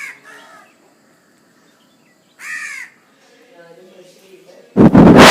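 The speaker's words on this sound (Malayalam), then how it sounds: "ഈ കാക്ക കൂവുന്നതും കേൾക്കാം" Crows cawing at sunrise in Kerala, two distinct harsh caws a couple of seconds apart, fairly near and loud over a quiet morning, followed by a burst of noise at the end.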